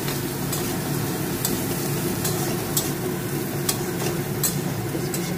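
Boiled chickpeas are stirred with fried onion in a pan, a steady sizzle and frying hiss running throughout, with irregular scraping taps of the spoon against the pan and no talking.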